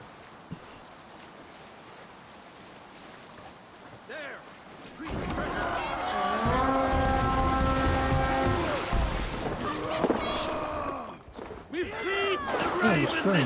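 A sailing ship at sea in Assassin's Creed Valhalla, with wind and surging water rising into a loud, steady rush as the ship gathers speed, while people talk and shout over it.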